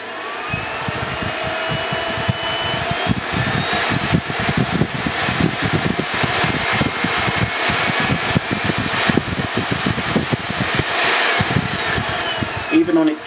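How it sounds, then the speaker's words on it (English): A Miele S 381 cylinder vacuum cleaner runs steadily, its whine stepping upward through its speed settings before easing back near the end, a close continuous motor drone with airflow rush. "I'll just switch it on and go through the various speeds for you."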